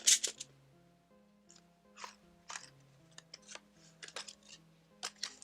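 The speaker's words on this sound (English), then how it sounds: "Oh, that's like keys." Keys jingling in a handful of quick, bright metallic clinks and rattles, close and fairly quiet, scattered in short bursts over a low steady musical drone.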